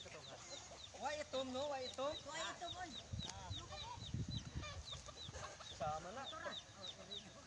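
A flock of native chickens from a sugarcane field clucks and squawks continuously nearby, many overlapping calls, with some low background voices mixed in.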